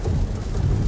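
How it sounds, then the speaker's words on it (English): Heavy rain drums around a moving car while thunder rumbles low and steady, a dense loud wash with no voices. "Sorry for the rain and all the bumpiness Jay's driving, guys"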